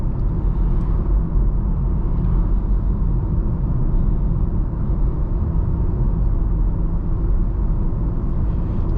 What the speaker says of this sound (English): You do get the slightest whir of tire noise and a little bit of outside noise from the traffic going by